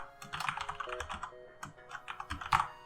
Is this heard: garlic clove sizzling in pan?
no